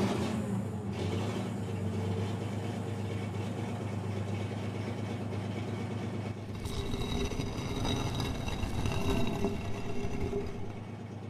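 An engine runs steadily to hoist a heavy stone slab, a continuous low rumbling drone with mechanical rattle as a radio drama effect, loud and close, growing busier and grinding in the second half.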